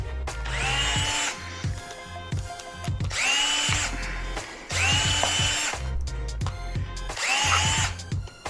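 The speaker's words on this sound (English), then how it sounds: "so we're going to drill these holes" A power drill bores holes for an M2C 1600 Mini Series battery tray, running in several loud bursts of a few seconds each, separated by short pauses with clicks and handling noises.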